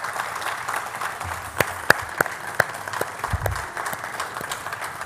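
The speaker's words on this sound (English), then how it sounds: "Let's give them a round of applause" Scattered applause from a lecture audience at a professorial inaugural lecture, sparse distinct claps over a quiet room murmur, with a brief low rumble midway.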